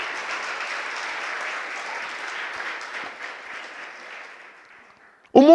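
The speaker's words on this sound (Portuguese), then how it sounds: "Você pode aplaudir o nome do Eterno." A church congregation applauds together in a sustained wash of clapping, steady and fairly even for about five seconds before it fades. A voice cuts in abruptly right at the end.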